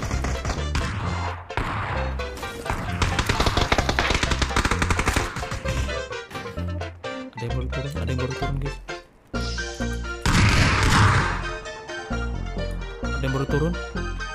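Rapid gunfire in PUBG, loud and near with dense bursts of shots over a busy game soundscape, with a brief lull before another heavy volley.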